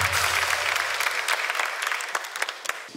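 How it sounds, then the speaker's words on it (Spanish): Audience applause breaks out as a close, dense burst of clapping from a studio crowd and then thins out gradually over a few seconds, with no voices over it. "Un aplauso para él, un aplauso para él."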